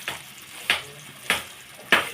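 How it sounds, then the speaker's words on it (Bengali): Ground taro paste, crushed on a grinding stone, sizzles in a hot kadai, with a steady frying hiss broken by three sharp, evenly spaced bursts as it is stirred. "এই কচুগুলা সুন্দর করে পাটায় বাটে রাখছি এখন কড়াইয়ের মধ্যে দিয়ে দিলাম"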